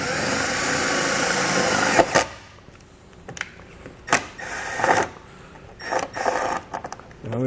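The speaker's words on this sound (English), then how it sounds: "go ahead and drill that screw right into the body" A power drill drives a screw into a 2020 vehicle's body near the tail light housing, a steady whirring run that stops abruptly, followed by several short bursts of drilling and handling clatter.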